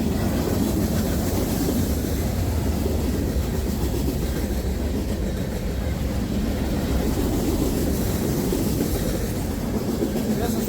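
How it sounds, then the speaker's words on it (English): A freight train, M368, rumbles past close by, wheels clacking in a continuous heavy roar that holds steady throughout. "Train M368 Pere Marquette."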